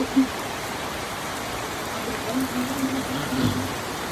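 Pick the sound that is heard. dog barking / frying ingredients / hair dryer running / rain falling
rain falling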